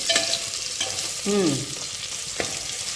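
Chicken or mutton and potato pieces stirred in a pressure cooker for biryani, a few close spoon scrapes and knocks over a steady background sizzle, with a short squeaky scrape in the middle.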